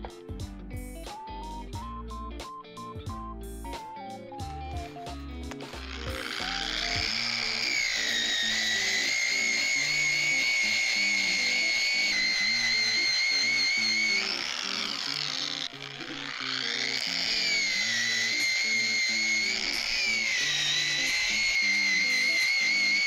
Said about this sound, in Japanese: 形が整ってきたから細かい番手で磨いていくのだ。